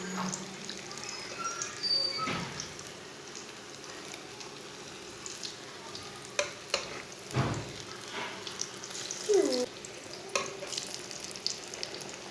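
Batter-dipped okra frying in a pan, a steady bubbling sizzle running throughout with occasional clinks and scraping, close up, plus a brief squeaky sound partway through.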